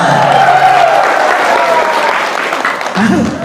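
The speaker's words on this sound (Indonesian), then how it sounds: "Cocok ada cocok, tepuk tangan" Audience applause at an Islamic Muharram religious gathering, a sustained wash of clapping through the whole moment with a voice speaking over it toward the end.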